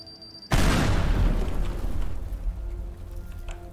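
A wall is blown apart in the destruction video game Teardown: one sudden loud boom, then a long rumbling wash of crumbling debris that slowly fades.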